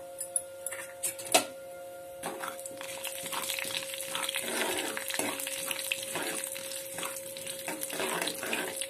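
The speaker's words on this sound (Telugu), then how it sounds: "కరేపాకండి ఆవాలు మినపప్పు జీలకర్ర ఒక మిరపకాయ వేసుకున్నానండి తర్వాత ఒక గరిటెడ్ నూనె వేసుకొని వేగుతున్నదండి" Mustard seeds, urad dal, cumin, a chili and curry leaves sputter in a ladle of hot oil for a tempering, giving a steady close crackling sizzle with a few sharper pops near the start and no talking.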